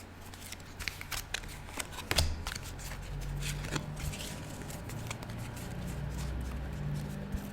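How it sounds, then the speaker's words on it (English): Tarot-style cards riffled and shuffled for a love reading, a soft steady papery flutter with sharper snaps and taps, quiet and close, alone without talk. "we're picking 3 cards that I feel should be in the mix"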